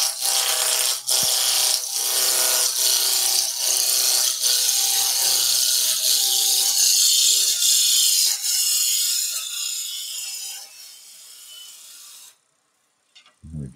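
A wood lathe spins at about 1600 rpm while a chisel turns a blank down to a cylinder for a traditional German Reiterlein Christmas ornament. The cut is a loud, steady whirring rasp that runs for about twelve seconds and then cuts off abruptly.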